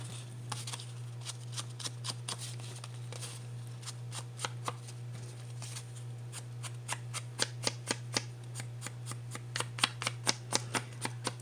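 Paper edges of a Halloween craft tag being distressed with a tool, a run of sharp, rhythmic scraping strokes that grow quicker and more regular, close-up over a steady low hum, with no talking.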